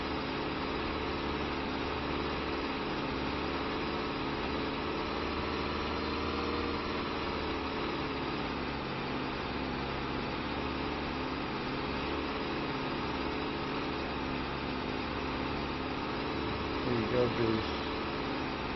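A tractor engine idles in a Farming Simulator 25 farm scene as a steady, low mechanical drone with an even fan-like hum that holds constant throughout, with a faint brief knock near the end.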